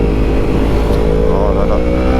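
A Yamaha MT-10 motorcycle engine runs loud and close throughout, its steady rumble breaking briefly as a quickshifter snaps through a gear change mid-ride.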